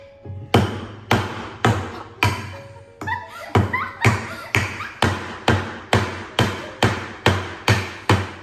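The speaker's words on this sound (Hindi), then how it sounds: "नीचे पापा ने आवाज सुनी कि ठक ठक ठक ठक क्या हो रही है" A piggy bank being tapped to break it open, a steady series of sharp, evenly spaced knocks about twice per second after a short pause, close and clear with no talking.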